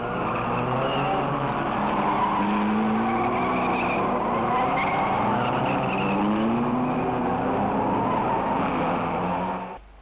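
Racing cars lap Mallory Park circuit during a 40-lap sports car race, engines droning loudly and continuously at a distance with shifting pitch, ending abruptly.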